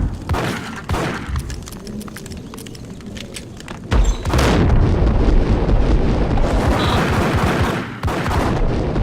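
Gunfire in the video game Max Payne rattles out in dense, loud, continuous volleys, with a heavy burst near the middle and steady shooting running to the end.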